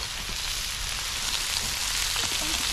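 Meat sizzling in a pan at a campsite on a motorcycle camping trip, a steady, close, dense frying crackle throughout with no talk.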